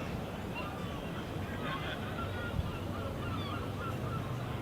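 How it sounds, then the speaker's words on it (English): Seagulls call over a cricket ground during a county championship match, their honking cries faint and scattered against a steady background of crowd murmur. "Yes, the Seagulls are really here. They seem pretty"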